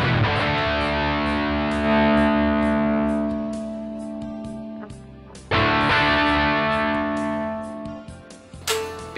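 Heavily distorted electric guitar chords through a Hughes & Kettner Tubemeister 18 tube amp ring out and sustain, fading before a fresh strum cuts in, loud and saturated with a gritty amp crunch.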